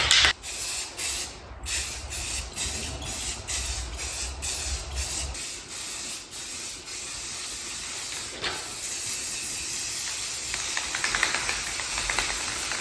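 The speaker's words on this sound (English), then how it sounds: "I'm just gonna grab some spray paint" An aerosol spray can hisses in bursts and then long steady passes while black trim paint is sprayed over dried primer on a car's trim, close to the microphone, with short pauses and rattling between sprays.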